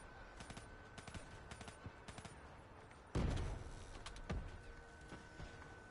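Gunfire in Call of Duty Black Ops 3 comes as rapid bursts of sharp shots, then one loud blast near the middle followed by scattered shots, with faint talk.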